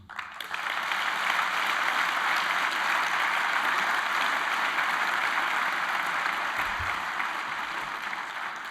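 A large audience applauds after a politician's speech at an anniversary event, with a dense, steady wash of clapping that starts abruptly and holds at full strength for about eight seconds before easing slightly toward the end.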